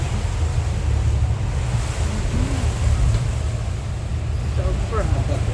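Strong storm wind and crashing waves in Malaysia roar continuously up close, heavy rushing noise buffeting the microphone throughout.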